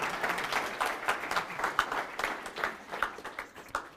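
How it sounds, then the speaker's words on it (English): A lecture audience claps in uneven, scattered bursts for about four seconds, moderately loud with individual claps standing out, at a business talk about building an eight-figure company from an iPhone. "Y'all can clap"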